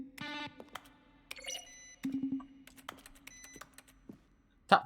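Button presses in The Stanley Parable, each one a keyboard keystroke blended with a synthesizer tone, come as a string of short, crisp clicks with bright tonal tails and a low steady hum underneath, ending in a louder final hit.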